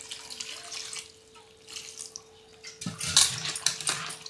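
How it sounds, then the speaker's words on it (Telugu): Water runs from a kitchen tap and is poured into a pot for mango dal with onions, a steady splashing flow that grows louder and fuller near the end, with a few light clinks of the pot. "ఇప్పుడు వాటర్ వేసుకొని ఇవన్నీ కలుపుకున్నాము"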